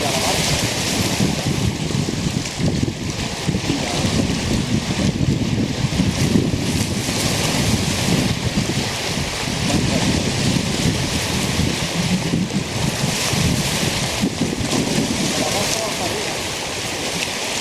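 Heavy wind and sea noise surround a boat at sea off Lloret de Mar, a dense continuous roar with surging waves and rumbling low end that stays loud throughout, with no clear talk.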